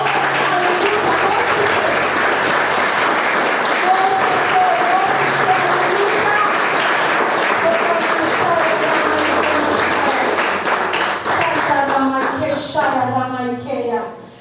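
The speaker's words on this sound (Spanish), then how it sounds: "Denle un aplauso a Dios, por favor." A church congregation claps steadily in loud, sustained applause that fills the room, tapering off near the end as a few voices rise over it.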